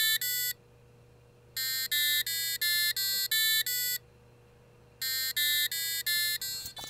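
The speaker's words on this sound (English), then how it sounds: "play musical note with this buzzer and the transistor" An electronic buzzer, driven by an ESP32 microcontroller through a transistor, plays loud, clean beeping notes in three quick bursts separated by short pauses, with a faint steady hum underneath and no talking.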